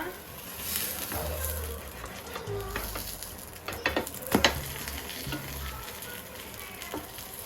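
A lentil-batter dal pizza is flipped in a hot pan, giving a low continuous sizzle with a few sharp clatters of the spatula midway and no talking.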